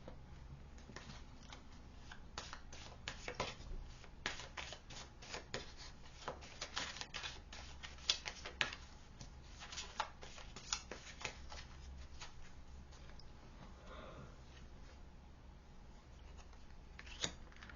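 Tarot cards are shuffled for a pick-a-card reading, producing a steady, close riffling and rustling texture with frequent sharp card snaps, running continuously without speech.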